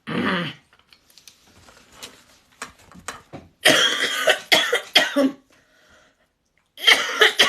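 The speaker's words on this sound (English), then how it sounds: "I'm sorry for coughing, you know me." Several harsh coughs in bursts, a loud one at the start and a cluster of heavier coughs later, with quiet breathing and small sounds between.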